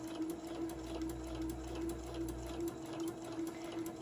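A sewing machine runs slowly and steadily along a seam on a Santa tote bag, its needle ticking in an even rhythm close by, with no talk over it.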